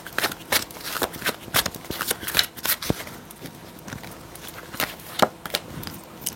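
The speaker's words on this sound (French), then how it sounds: "Je vais prendre du coup quelques cartes de mon oracle de Jésus d'amour" Oracle cards shuffled by hand, a steady run of quick papery riffles and soft slaps close up, alone without talk.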